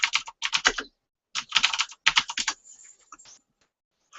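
Fast bursts of typing on a computer keyboard, close and crisp, come in three clusters of rapid keystrokes separated by short pauses, trailing off into a few scattered taps.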